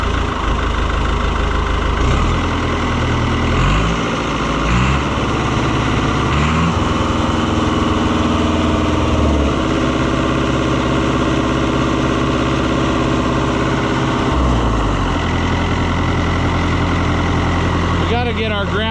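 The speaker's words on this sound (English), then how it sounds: "I just love the way these little foreign diesels run." A small Fiat diesel tractor engine, an Oliver 1365 (Fiat 640), runs at a steady idle. Its low, even rumble is close and loud throughout, with someone talking over it.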